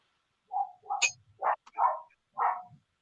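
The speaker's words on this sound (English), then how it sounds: "who's barking?" A dog barks in a home, giving several separate woofs in an irregular run, close and fairly clear against a quiet room.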